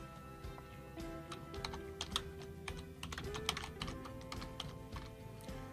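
Rapid clicking keystrokes on a computer keyboard while entering text into a document, an uneven close patter of light taps continuing throughout with no voices.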